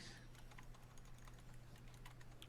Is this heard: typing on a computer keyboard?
yes